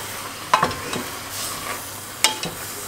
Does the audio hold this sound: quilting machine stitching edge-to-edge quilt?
no